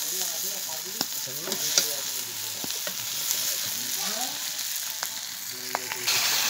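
Desi chicken meat sizzles and fries in a pan while a utensil stirs it, with steady close sizzling and occasional sharp scrapes and clinks against the pan.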